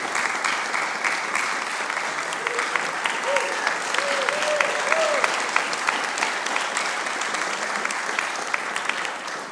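Audience applause fills a church during a Sunday service, steady and dense clapping from a congregation for about ten seconds with no pause, fairly close and even in loudness.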